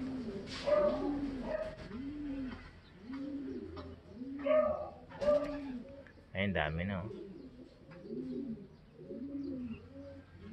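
Several racing pigeons coo in repeated low, rolling calls close by, with brief soft talk and an occasional short bark-like sound between them.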